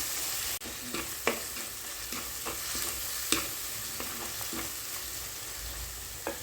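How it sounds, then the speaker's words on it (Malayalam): Chili, turmeric and fennel powder frying in hot oil, a steady dense sizzle with occasional spoon taps against the pan, close and continuous without talk. "നന്നായി എണ്ണയിലൊന്ന് മൂപ്പിച്ചെടുക്കുക."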